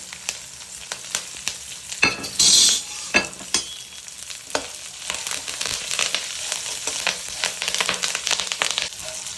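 Dried red chillies and curry leaves fry in oil with garlic for red poha chivda, a close, steady sizzle broken by clattering stirs and a short burst of loud crackling.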